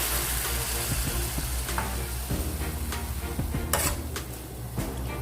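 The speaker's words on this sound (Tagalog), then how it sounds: "And just let it simmer" Sautéed bitter melon with ground pork simmers and sizzles in a pan after a splash of water, a continuous close crackle with occasional clinks of utensil against the pan.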